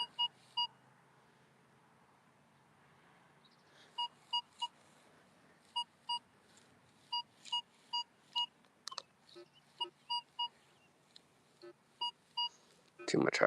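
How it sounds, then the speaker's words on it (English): Metal detector sounding on iron in a recently repaved parking lot, a quiet series of short, sharp electronic beeps repeating irregularly, some in quick pairs, with faint handling noise near the end. "Too much iron beep in that."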